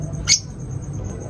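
A single sharp squawk from African lovebirds in an aviary cuts through briefly near the start, over a low, steady background hum.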